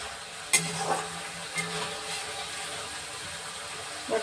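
Green banana sautéing in a pan: a close, steady sizzle with stirring and scraping, a sharp clink of a utensil near the start and a few brief tonal knocks against the pan.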